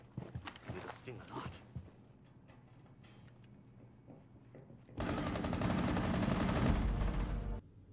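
In Rainbow Six Siege, Lesion's gun fires rapid bursts of shots early on, followed by a sustained loud roar of continuous fire near the end, with a voice talking over parts.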